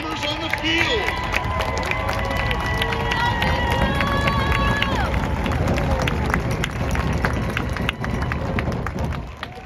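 Applause and cheering rise from the crowd at a marching band contest, a continuous loud roar of clapping with scattered shouts, while an announcer's amplified voice talks over it.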